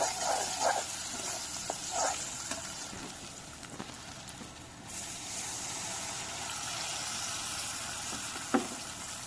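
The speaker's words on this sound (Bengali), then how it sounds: "পেঁয়াজটাকে ভেজে নিব" Onions fry in a pan for a home-cooked chicken curry, giving a quiet, steady sizzle with a few soft stirring clicks and no one talking.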